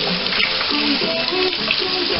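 Tap water runs steadily from a kitchen faucet, mixing hot and cold, as vegetables are rinsed under it, a continuous wash of splashing with faint clatter and background voices.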